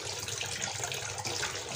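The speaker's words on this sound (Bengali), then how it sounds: "সেজন্য আমি লইট্টা মাছগুলো গোটা গোটা ধুয়ে নিচ্ছি" Whole loitta fish are washed under running tap water, a steady close splashing gush into a sink, continuous and moderately loud.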